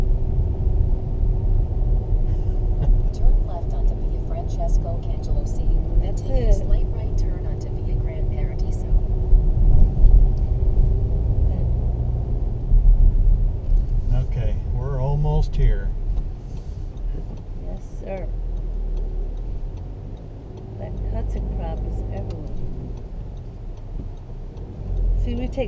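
A 2017 Audi Q3 turbo diesel drives in second gear through Carini, Sicily, its steady low engine and road rumble filling the cabin while people talk over it throughout.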